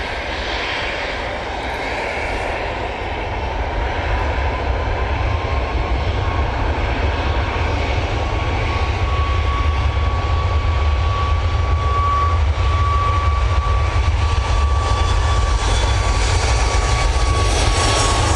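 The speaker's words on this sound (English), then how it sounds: "Goes the Ryanair 737 MAX 8." A Ryanair Boeing 737 MAX 8 jet passes by with a loud, sustained engine roar, a deep rumble under a thin steady whine, swelling a little as it continues without any talk.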